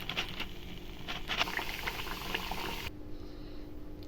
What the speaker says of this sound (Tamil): மீதி இருக்கிறதையும் போட்டு நம்ம இதை ஃப்ரை பண்ணி எடுத்துடலாம்